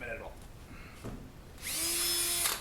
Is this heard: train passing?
no